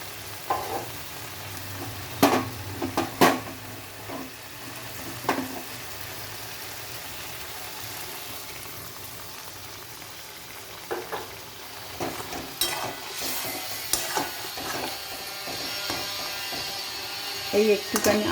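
Pointed gourd korma simmering in a pan, with a steady low sizzle and bubbling running throughout and brief stirring clatters, while someone talks over it.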